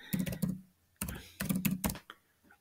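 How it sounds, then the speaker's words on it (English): Quick clusters of keystrokes tap on a computer keyboard, close and crisp, in three short bursts separated by brief pauses. "I'm gonna type photo."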